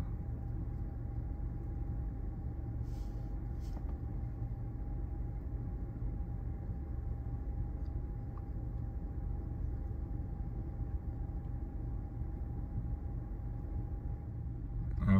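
Touchless automatic car wash in Canada spraying soap onto a car, a steady low rumbling hiss of machinery and spray heard from inside the vehicle, continuous and even.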